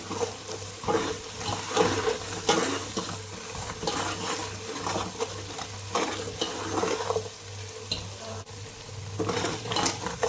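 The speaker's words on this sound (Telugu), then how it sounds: "మసాలా బాగా వేగాలి." Masala spices with coriander powder fry in a pan for Kadapa-style mutton biryani, a continuous sizzle broken by repeated scraping and clinking stirs of a metal spoon, close and busy, with no talk.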